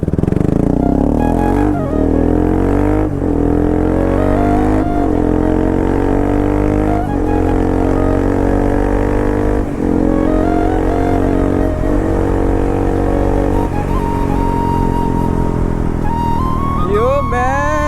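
A Bajaj Pulsar RS200 motorcycle exhaust runs loud and close, holding a steady droning note with brief rev swells and gear-change dips.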